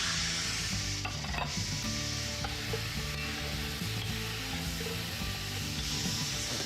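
Garlic, onion, carrots and celery sizzle steadily in a pot as the base for beef braised in Barolo, with a continuous close frying hiss and occasional stirring scrapes, and no talk.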